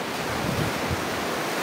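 Sea waves washing at Bayug Island, a steady broad roar of surf mixed with wind rumble, continuous and fairly loud with no voices.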